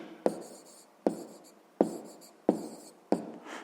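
A pen or pencil writes on paper while a sixth-grade math exercise is worked out. Five short scratchy strokes come close up at a steady pace, with quiet gaps between them.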